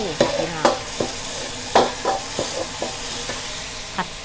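Garlic and chili sizzle in a hot wok for oyster sauce noodles, a steady frying hiss broken by repeated sharp scrapes and clanks of a spatula stirring, close and loud with no talking.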